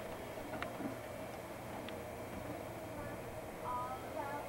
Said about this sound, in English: There's the work train.